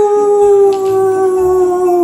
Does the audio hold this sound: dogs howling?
yes